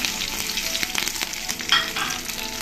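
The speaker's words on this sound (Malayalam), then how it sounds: "ഇതിലേക്ക് നമുക്ക് കറിവേപ്പില ഇട്ട് കൊടുക്കാം ഇഞ്ചിയും ഉള്ളിയും ചേർത്ത് കൊടുക്കാം" Curry leaves, ginger, onion and slit green chillies fry in oil in a pan for a squid roast, making a dense, crackling sizzle with intermittent stirring clatter, near and continuous, with no voices.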